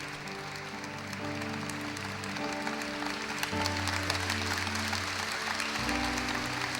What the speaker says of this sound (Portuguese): Dá licença, pode aplaudir.